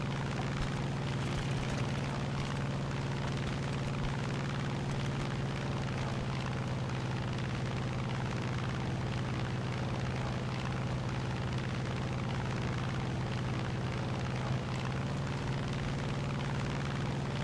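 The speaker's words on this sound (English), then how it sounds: "I got some planes on me." WWII fighter plane engines in the War Thunder video game give a continuous loud propeller drone with a steady low hum for the whole stretch, with no talking.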